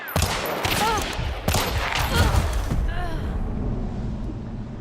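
Rapid bursts of pistol and rifle gunfire in the Western-themed shooter Hunt: Showdown 1886, loud and dense with booming shots and echoes, a voice talking faintly underneath.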